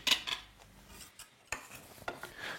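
Metal spoon scraping and clinking around a pot of soup while stirring, a few brief knocks and scrapes at close range with quiet gaps between them.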